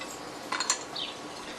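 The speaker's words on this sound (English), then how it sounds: "We'll measure about a cup of ice in the Pyrex." Ice is poured into a glass Pyrex measuring container, a brief burst of a few bright clinks and clatters up close over a faint background hum.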